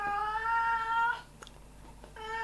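An elderly 17-year-old domestic short-haired tabby cat with hypothyroidism cries in drawn-out, wailing meows, one long yowl, then a pause with faint rustles, then another cry starting, close and fairly loud.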